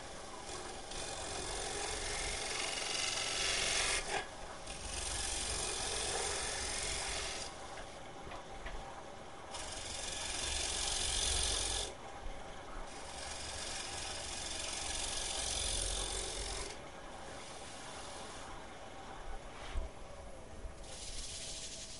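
Wood lathe turning a bowl while a gouge makes very light pull cuts toward the rim, a soft continuous rasping hiss that swells and fades in passes over a low motor hum.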